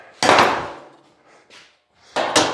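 Several sharp, loud knocks of a hammer striking wood while adjusting a 1951 Ford fender, an isolated blow followed later by a quick pair, with quiet gaps between.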